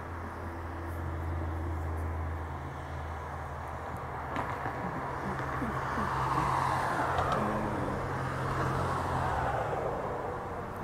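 Cars, including a Honda, pass along the street in a steady wash of road noise, engines and tires swelling and fading at moderate distance, with a voice speaking briefly.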